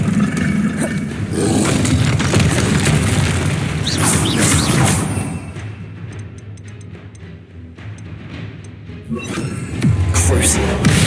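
An Expelliarmus spell goes off in the Hogwarts Legacy video game: loud booming magical bursts and roars during a duel, with a voice calling out over the combat and a quieter lull midway.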